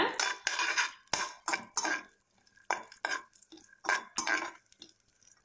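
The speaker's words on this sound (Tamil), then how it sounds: "இத மூணையும் நல்லா வறுத்து எடுத்துக்கலாம். இதை வந்து பொன்னிறமா வறுத்து எடுத்துக்கோங்க." A metal spoon scrapes and clinks against a pan while cashews, rava and other ingredients roast for rava laddu, a series of short irregular scraping strokes, close and fairly quiet, with no talking.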